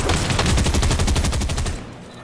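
Rapid burst of video game gunfire from a shooter match, a fast string of loud automatic shots for nearly two seconds that cuts off abruptly and leaves a quieter tail.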